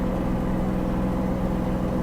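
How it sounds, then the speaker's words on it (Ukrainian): Kubota KL-33 Japanese mini tractor running steadily as it pulls away on clutch release, a continuous low diesel engine drone at close range with a steady hum and no voices. "як трактор рушає, коли пускаємо щеплення"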